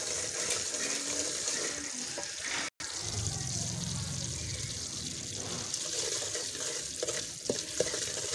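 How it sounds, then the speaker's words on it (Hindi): Semolina and egg halwa with green cardamom roasting in a pan, giving a steady sizzling hiss with the scrape and swish of a spoon stirring. The sound stays continuous and close, with a brief break partway through. "अच्छी तरह से इसको भूनेंगे।"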